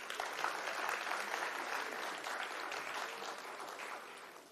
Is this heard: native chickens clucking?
no